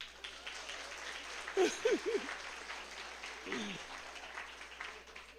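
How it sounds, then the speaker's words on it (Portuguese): A church congregation breaks into applause during a sermon, a diffuse, moderately distant wash of clapping with a few sharp vocal whoops rising above it. "Dá um salto de palmas para quem falou isso"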